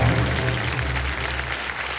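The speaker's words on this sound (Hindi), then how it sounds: "जोरदार तालियां बजती रहें" A studio audience at a televised quiz show applauds in a steady, dense wash of clapping that holds for the whole two seconds without speech.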